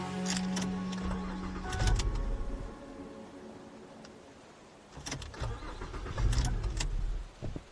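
A car engine cranks and sputters without catching, in two separate bursts of loud churning with a pause between them, in a dark stretch of road on a shortcut.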